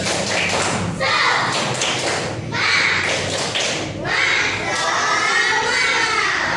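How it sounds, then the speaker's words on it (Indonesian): Children in a classroom perform the 'tepuk semangat' rhythmic clap, a dense run of loud, quick claps and thumps in bursts with chanting voices mixed in, close and filling the room. "Coba tepuk semangat."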